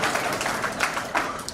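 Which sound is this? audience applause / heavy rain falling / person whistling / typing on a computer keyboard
audience applause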